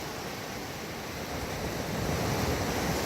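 Ocean surf rolls in on a very flat beach in New Zealand, a broad, continuous roar of waves with wind buffeting the microphone, growing slightly louder toward the end.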